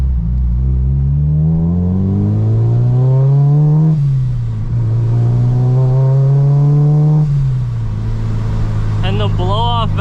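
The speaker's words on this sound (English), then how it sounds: "The blow-off valve sounds crazy." A supercharged K20-powered Acura RSX pulls hard through two rising engine runs, each ending in a gear-shift dip, followed by the fluttering hiss of the blow-off valve, loud and close, with voices over it.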